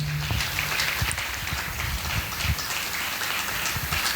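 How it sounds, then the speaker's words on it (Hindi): A church congregation applauds loudly for the team in a dense, continuous patter of many hands clapping at once, with no voices over it. "जोरदार ताली बजा दो,"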